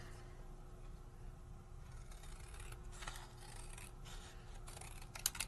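Scissors trim out a paper border for a card, giving faint rasping snips close by that grow busier toward the end, with a brief sharp cluster of cuts near the finish.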